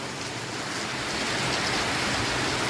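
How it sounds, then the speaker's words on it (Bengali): Steady, dense downpour of heavy rain hissing evenly throughout, with no voices. "তো দেখো ফ্রেন্ডস কী হারে বৃষ্টি হচ্ছে কিন্তু প্রচণ্ড"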